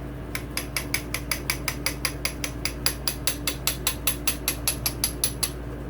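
A motorcycle piston wrist pin on a 2009–2025 Suzuki RMZ450 being driven out with a small drift, about two dozen light, evenly spaced metallic taps over a low hum, close and clear with no talk.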